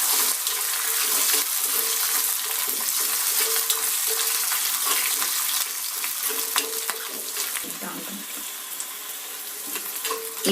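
Garlic sautéing in a pan with a dried red chilli for a medicinal rasam, a steady close sizzle broken by scraping stirs and a few clinks, heard alone without talk.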